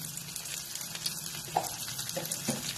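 Roasted green tomatoes with a pinch of turmeric and salt stirred in a pan, soft sizzling with a few light knocks and scrapes from the spoon, quiet and close without talking.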